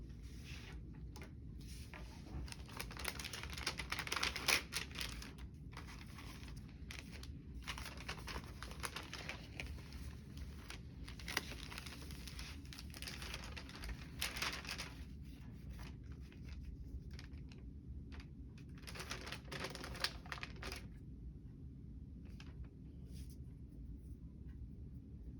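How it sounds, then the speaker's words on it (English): Sterile glove packaging is peeled open and handled during a sterile dressing change, giving faint crinkling, rustling paper and plastic sounds in short bursts over a quiet, steady background. "So next we'll be opening the sterile gloves."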